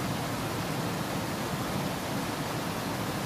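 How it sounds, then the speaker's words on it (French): A waterfall on the Mosson river roars steadily just below, a loud, unbroken wash of falling water that fills the whole stretch with no other sounds rising above it. "Ce qu'on entend, c'est la cascade qui est en contrebas."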